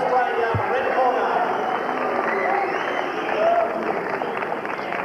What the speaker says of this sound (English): Let's have a round of applause for Chris Nicolaou,